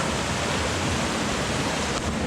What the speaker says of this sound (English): streams and waterfalls everywhere here